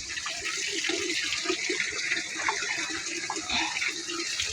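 Water running steadily while rooftop garden plants are watered, a continuous close gushing splash with a broad hiss and no talk.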